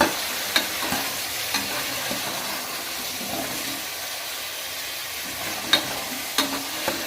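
Beans and potato pieces are stirred and fried in a pan for sambar, giving a continuous hissing sizzle with occasional sharp spoon clinks against the pan, close and alone without talking.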